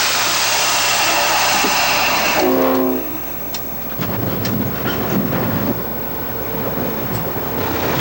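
A Seaboard locomotive, engine 6041, rolls along the rails with a loud continuous rumble and rattle. A brief horn-like tone sounds early on, followed by clattering wheel noise and metallic clicks.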